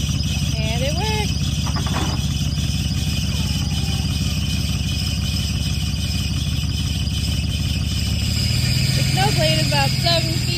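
A 1995 Ford F-250 4x4 XLT truck fitted with a 7-foot-6-inch snow blade runs with a loud, steady engine drone throughout, with occasional high squeals and rattles over the constant rumble.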